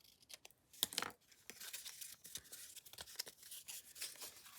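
Quiet paper trimming for a handmade Santa journal, with scissors snipping and papery rustles in soft, irregular cuts close to the microphone.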